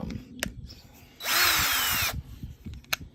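A DEWALT 20V Max cordless drill/driver whirs steadily for about a second, the chuck spinning with a high motor whine, amid faint handling clicks before and after.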